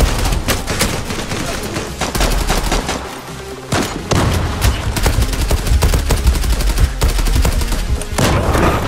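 Turkish-made Fateh rifle firing in the shooter game Zula on the New Tehran map, with loud, close, rapid bursts of automatic gunfire that break off briefly and then resume.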